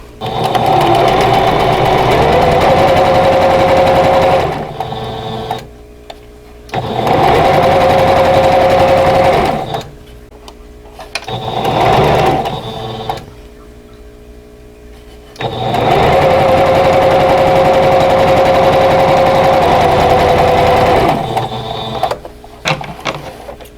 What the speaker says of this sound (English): let me sew on the rectangle